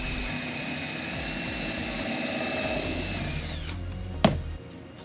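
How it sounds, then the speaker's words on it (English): Power drill boring a pilot hole for a screw in scrap wood while building a planter box: a loud, steady whine that winds down, then a sharp click as it stops. "drill us a hole"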